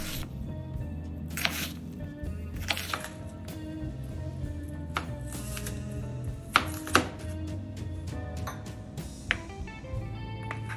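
A knife dices vegetables on a cutting board in irregular bursts of crisp chops, some strokes sharper and louder than others, near and clear over a low background hum.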